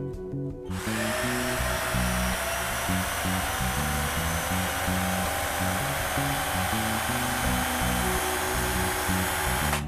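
A Xenon 12 volt cordless polisher runs steadily at speed 2, a loud continuous motor whine with a buzzing drone that starts after a brief moment and holds unbroken to the end.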